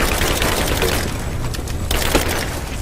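Suppressing machine gun fire in Rise of the Tomb Raider on PS4 Pro rattles as a dense, loud, continuous burst with splintering crackle and a rumbling low end throughout.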